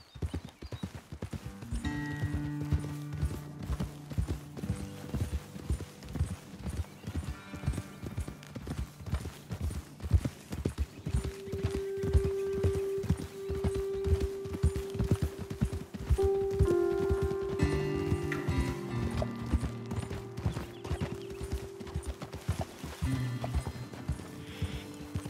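Horses trot in Red Dead Redemption 2, a rapid, even clip-clop of hooves throughout, fairly close, with tonal game sounds rising in the second half.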